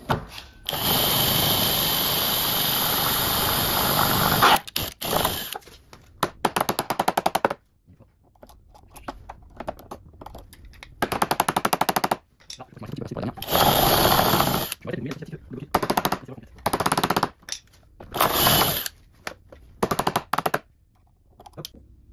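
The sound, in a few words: drill boring out a lock cylinder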